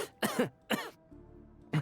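Three sharp coughs in quick succession in a video game, followed by a short pause and a fourth cough starting, close and clear.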